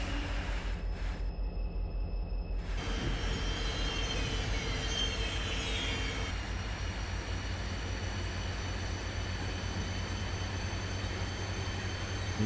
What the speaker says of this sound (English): At 10 o'clock, we've released the train.